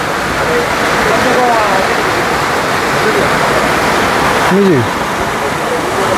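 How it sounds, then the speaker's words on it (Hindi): A small waterfall in Company Garden, Mussoorie rushes with a loud, steady broadband roar, while a voice speaks briefly over the water. "वो वाला एक छोटा सा वाटरफॉल भी देखे, वो भी है कंपनी गार्डन के अंदर"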